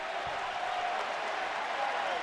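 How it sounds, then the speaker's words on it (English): A dense stadium crowd at a football match applauds Mane as he leaves the pitch, a steady wash of clapping and cheering heard from a distance, without a break. "just pause real quick to hear the crowd show him some love"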